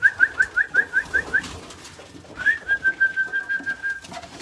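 Racing pigeons in a race loft, around ninety birds, give a run of short rhythmic coos, then one longer drawn-out call, close and clear over quiet room noise.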